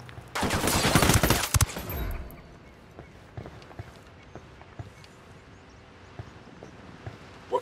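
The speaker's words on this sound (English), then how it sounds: "Opening fire" A loud, rapid burst of automatic fire in the tactical shooter Ghost Recon Wildlands, during a green beret skirmish, lasts under two seconds, then drops to quiet background with scattered faint ticks.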